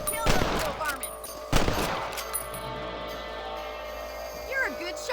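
Rifle shots crack in the Red Dead Redemption video game while hunting rabbits. Two loud, sharp reports come close together, with ringing tails and game ambience in between. A voice speaks over the scene.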